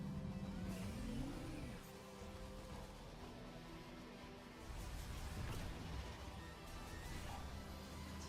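Motorbike engine in a Mario Kart DLC video game trailer, revving and accelerating with a rising whine early on, set over a continuous mix of game music and effects at moderate level.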